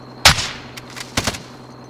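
Gunfire in the video game Call of Duty Warzone, a sharp loud burst of shots followed by a faint single crack and then a second cluster of rapid shots, over a quiet hum.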